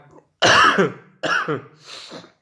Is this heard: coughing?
yes